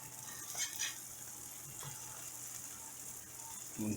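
Hot water cornbread cooks slowly over low heat in a skillet, a faint steady sizzle running throughout with a few soft scraping touches.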